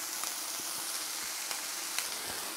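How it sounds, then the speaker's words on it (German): Bacon sizzles and fries in a pan, giving a steady close crackling hiss with small pops scattered through it. "dass der Speck so ein bisschen das Fett verliert in der Pfanne und so ein bisschen kross und knusprig wird"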